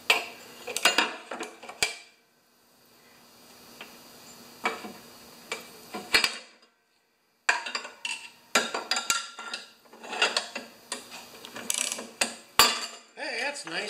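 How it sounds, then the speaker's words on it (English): A ratchet and breaker bar working a seized bolt on a new lawn mower in a workshop, a string of close metallic clicks and clanks in bursts with a short quiet gap partway through. "Get the bar and we'll get the ratchet."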